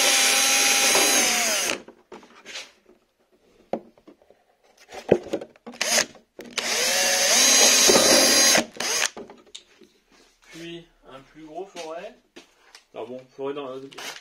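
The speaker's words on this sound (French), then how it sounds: "on va percer d'abord avec un petit foret." A small drill bit bores through the plastic body of a Traxxas X-Maxx, two loud whining bursts close by, separated by quiet handling noises and scraping, with someone talking afterward.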